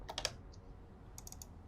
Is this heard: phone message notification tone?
no